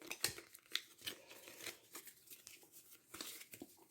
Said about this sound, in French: Donc là, on va mélanger les cartes.